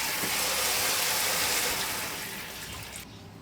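Hot boiling water pours from a pot in a steady, rushing splash on a homestead, loud and continuous before tapering off near the end with no talk.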